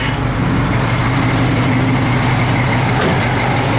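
Engine of a 1966 Chevrolet Malibu convertible running steadily, a loud, close, even rumble with no break.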